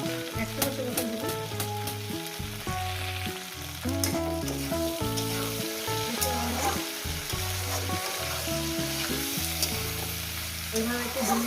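Chopped ginger and vegetables fry in a pan for a Bengali mixed-vegetable chorchori, a steady close sizzle running throughout with occasional scraping stirs, and no talking.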